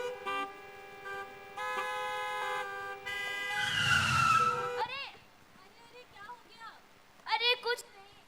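On a school stage play, a car engine hums and a horn sounds in steady tones, followed by voices speaking over quieter stretches.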